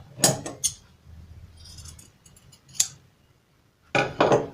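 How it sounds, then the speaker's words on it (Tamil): Scissors cutting a V shape into blouse fabric, a few sharp crisp snips with quieter rustling of cloth between them, close and alone with no talk. "இப்போ இதையே வந்து பார்த்தீங்கன்னா நான் வந்து வி ஷேப் வந்து கட் பண்ணுறேன்"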